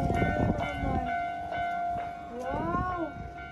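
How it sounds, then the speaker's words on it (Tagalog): A railway crossing warning bell rings steadily as a train approaches the crossing, with a sustained tonal chime and a rising horn-like sweep over a rumbling background, while people speak nearby. "Bawal ka nang tumawid kasi may dadaan ang tren."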